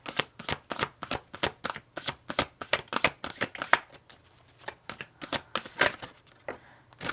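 A deck of tarot cards is shuffled in a quick, rhythmic series of crisp riffling snaps and flutters, close and distinct, with brief pauses between runs.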